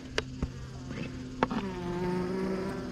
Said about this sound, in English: There is a lot of bees in this box here, guys.